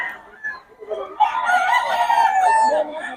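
Boston Roundhead rooster crowing once, close and loud, a drawn-out call lasting about two seconds after some softer clucking sounds.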